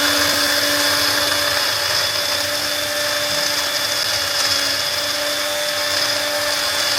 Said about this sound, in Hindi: और राधा की चल गई है मिक्सी।